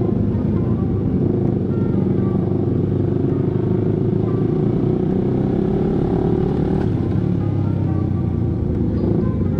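An old Suzuki Satria FU 150 motorcycle rides close and loud, its engine droning with a steady rumble and mechanical clatter, holding high revs throughout with little change in pitch.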